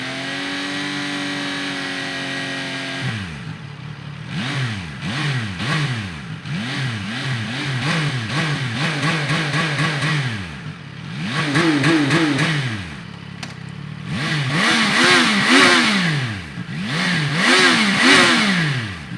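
CF Moto NK 675 motorcycle engine revved repeatedly: a steady idle, then a series of sharp throttle blips rising and falling in pitch, the later revs louder and harsher, with no talking.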